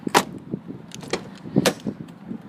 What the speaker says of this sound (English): Just close that door properly.